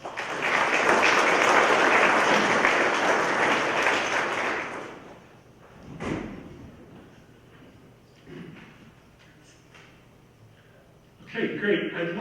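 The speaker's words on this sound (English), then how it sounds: "Let's give this group a round of applause." Applause from a conference audience for a steering committee group, loud dense clapping for the first few seconds that dies away into quieter room sounds, a brief knock, and a short burst of renewed noise near the end.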